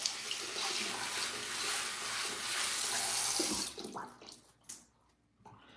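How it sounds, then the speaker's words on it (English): Tap water runs steadily from a faucet into a sink to wet a medium hair brush, a loud, broad rush lasting several seconds before it is shut off and a few drips and clatters follow. "I'm gonna wet my medium brush."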